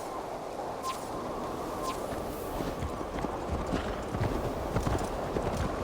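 Horse hooves clip-clopping at a steady trot in Assassin's Creed Valhalla, close and continuous over a bed of ambient game sound with a faint whinny-like tone, no talk.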